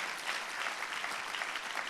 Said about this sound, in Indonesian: Oh tepuk tangannya lebih dahsyat lagi buat Yesus Tuhan kita.